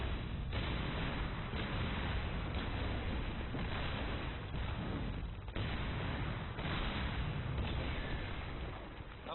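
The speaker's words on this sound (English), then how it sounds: "I just destroyed a wall" Sgt. Hammer blasting down a wall in Heroes of the Storm, a run of heavy booming impacts and crunching blasts repeating roughly every second, dense and loud throughout.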